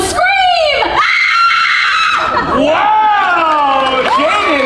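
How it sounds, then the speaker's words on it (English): An audience volunteer at a special effects stage show at Universal Studios Hollywood lets out loud, close screams in rising and falling wails. A short pause breaks the screaming, then it resumes. "Let's all hear how you would scream!"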